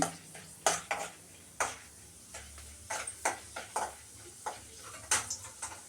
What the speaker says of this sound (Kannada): ಎಣ್ಣೆ ಕಾಯ್ದಿದೆ ಕಡಲೆಬೇಳೆ ಹಾಕ್ತಾಯಿದ್ದೀನಿ ಒಂದು ಸ್ಪೂನ್